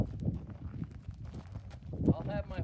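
A horse's hooves clop slowly on the ground as it is led toward a trailer, soft irregular steps close by under a person talking.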